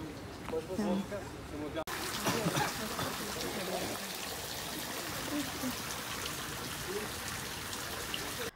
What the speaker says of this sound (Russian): Фонтан палатина.